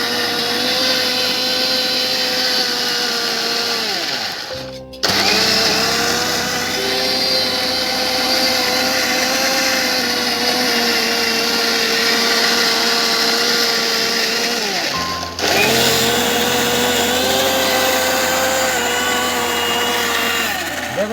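Blender grinding soaked rice into batter for soru chakli pitha: a loud, steady motor whir that stops briefly around five seconds and again near fifteen, each time starting back up at full strength.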